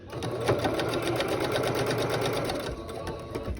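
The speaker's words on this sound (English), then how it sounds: "you want to make sure to stitch along the seam" A sewing machine runs steadily, stitching along a seam in a fast, even rhythm of needle strokes for about three seconds, then slows and stops near the end. The sound is close and clear, with no talk over it.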